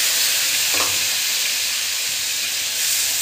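Spices and green chillies frying in oil for a spicy bhetki fish curry, a loud continuous close sizzle with a short scrape of stirring early on.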